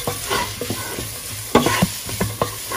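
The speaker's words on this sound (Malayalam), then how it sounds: "എല്ലാം ചേർത്ത് ഒന്ന് വഴറ്റിയെടുക്കാം" Beef pieces and other ingredients sautéing together in a pan, an even sizzle broken by several sharp scrapes and clanks of a spoon stirring, close and fairly loud with no talking.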